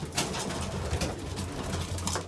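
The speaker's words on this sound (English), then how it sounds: "These are all my new stock birds that I've brought in for one off racing." Racing pigeons coo softly and steadily in a loft, low murmuring calls overlapping close by, with occasional louder flurries and no speech.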